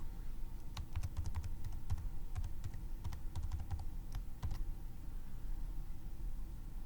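Fingers tap a password into a computer keyboard, a short burst of light, irregular key clicks, close and clear over a low steady hum with no voice.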